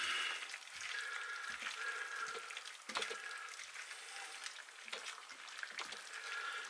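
Cornstarch thickener going into a sizzling orange chicken stir fry, a constant bright frying hiss with soft intermittent stirring knocks of the utensil, moderately quiet and close, no voices.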